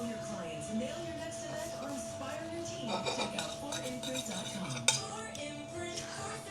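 A knife clinks against a plate while slicing a cooked steak, with scraping and light metallic taps mixed in; someone talks over the cutting throughout.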